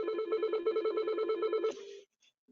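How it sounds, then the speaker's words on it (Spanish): An incoming call rings on an office desk telephone linked to a virtual PBX, a steady electronic trilling ring with rapid pulses repeating for almost two seconds before cutting off, loud and alone with no talking. "Ahí nos está entrando una llamada."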